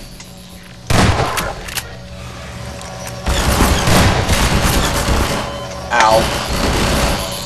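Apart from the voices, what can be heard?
turret gunfire in video game Half-Life 2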